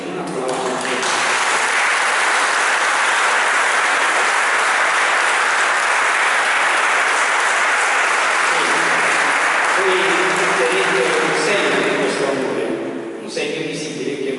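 Sustained applause from a wedding congregation fills a cathedral in Ruvo di Puglia, a dense, loud wash of clapping rising quickly and holding steady for over ten seconds, with a few voices murmuring underneath.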